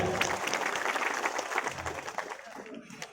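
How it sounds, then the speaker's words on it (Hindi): Loud, sustained applause from the audience at a political meeting, a thick crowd of hands clapping steadily for about three seconds before it begins to thin out. "श्री रामजीवन मौर्य जी, एक बार इनके लिए भी जोरदार तालियां।"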